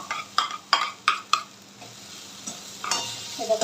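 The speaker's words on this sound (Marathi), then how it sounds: "व्यवस्थित मिक्स करून घ्यायचं आहे" Masala okra (bhindi) is stirred in a pan: four sharp spatula scrapes and clinks come in quick succession, then softer scraping follows over a faint sizzle, with no voices.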